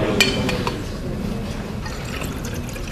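Diluted acetic acid solution is poured and mixed with deionized water in glassware, giving soft trickling and splashing with a few light clinks.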